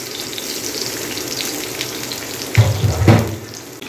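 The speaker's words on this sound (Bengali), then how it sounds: "আমার বেগুন ভাজা এক চুলায়" Brinjal (eggplant) slices frying on a stove in a home kitchen, a low steady sizzle that swells into a louder burst of crackling hiss near the end, with no talking.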